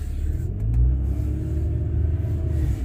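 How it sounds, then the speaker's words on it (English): A 2011 car engine fitted with an aftermarket exhaust idles with a deep, steady low rumble, swelling slightly in a brief rev near the start before settling back, close by with no talking. "this little 2011 sounds pretty dope, especially with that exhaust"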